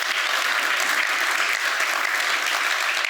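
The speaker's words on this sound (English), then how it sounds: "give him an applause" An audience applauds Christian Ebernickel at a tech conference, a steady, dense wash of clapping from a room full of people that holds even and loud for its whole length with no voices over it.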